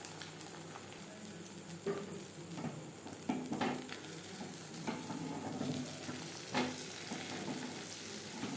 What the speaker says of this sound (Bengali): ডিমের অমলেট তৈরি করার জন্য কড়াইতে দিয়ে দিয়েছি এক চামচ রিফাইন্ড অয়েল